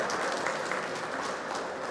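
A brief burst of crowd applause at a deputies' election event: thick, continuous clapping from many people, steady and fairly loud for the whole moment.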